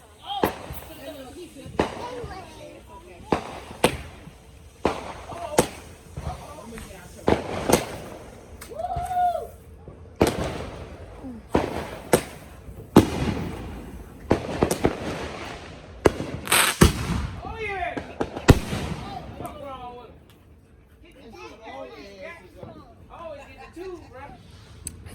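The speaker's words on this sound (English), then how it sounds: "Leona, look at the fireworks." Fireworks and firecrackers burst repeatedly outdoors at a family gathering, sharp cracks and booms coming in irregular clusters over about twenty seconds, with people talking and calling out in between and underneath the blasts.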